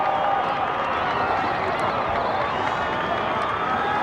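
A big crowd roars and cheers after a goal is kicked at a 1992 AFL match between Carlton and Brisbane, a dense, steady wash of distant stadium noise with no clear voice over it.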